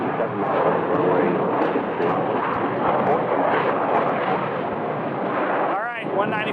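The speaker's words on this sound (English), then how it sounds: "The American 777 is going to be getting on the runway for what should be an immediate departure" An American Airlines Boeing 777 heavy lines up on the runway at Phoenix Sky Harbor Airport, its jet engines producing a loud, steady broadband roar that holds throughout, with a brief warbling tone near the end.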